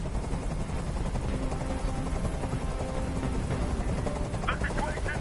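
Helicopter rotor chop from the video game Detroit: Become Human, a steady loud thrum filling the scene with rapid pulsing throughout, with scattered bursts suggesting gunfire in the background.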